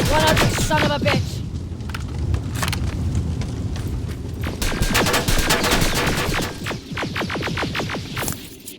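Heavy gunfire in the video game Terminator Resistance: rapid, loud bursts of automatic shots crackle continuously and close up, with voices faintly mixed in.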